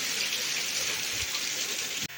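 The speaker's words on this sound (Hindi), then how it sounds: "यहाँ पे देख सकते हैं कितना बारिश हो रहा है।" Heavy rain pours steadily onto an open vegetable market in Ranchi, a dense continuous hiss of drops on surfaces, close and loud, with no voices.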